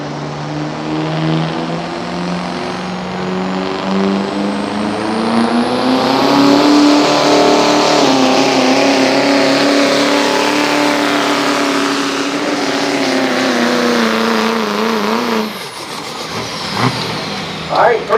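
A pulling truck's engine roars hard and steady for many seconds while dragging a weighted sled at a Ruritan truck pull, its pitch climbing and wavering under heavy load before cutting off abruptly near the end, loud and close.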